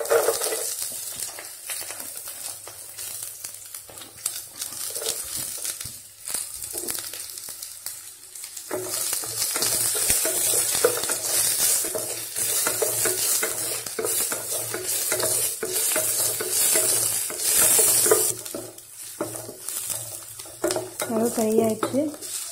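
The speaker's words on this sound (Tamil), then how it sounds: "கடுகு நல்லா பொரிஞ்சு வந்துடும். வெங்காயம், பச்சை மிளகாய் ஆட் பண்ணிக்கலாம்." Onion and green chili fry in a pan with mustard seeds, giving a steady crackling sizzle with scraping stirs. A faint voice talks at times, and the frying is quieter for the first few seconds.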